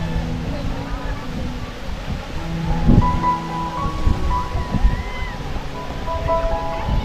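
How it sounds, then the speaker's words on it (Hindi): The Naneghat waterfall, hidden in clouds, roars as a broad, steady wash of falling water with gusty surges, while someone talks over it. "दोस्तों हम वाटरफॉल के पास आ चुके हैं, आवाज़ आ रही होगी आपको"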